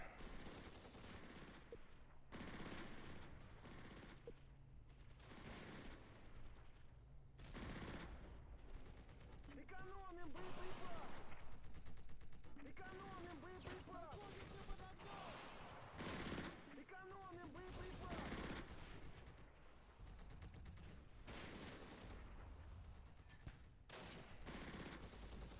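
Bursts of machine-gun fire and rifle shots, with thumping mortar impacts, from the Close Combat wargame on the Radzymin map, as a hedgerow team opens fire. The battle noise is dense and continuous, with voices talking over part of it.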